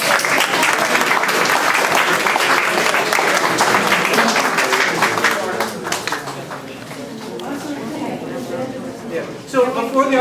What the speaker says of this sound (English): Please give these artists a round of applause.